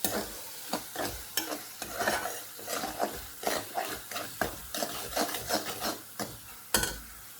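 Onions for a tiger prawn curry are stirred and sautéed into a paste in a pan: rhythmic scraping strokes of a spoon, about two per second, over a soft, continuous close sizzle, with no talking.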